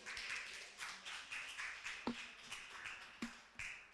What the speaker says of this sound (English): Can we give Xander a round of applause?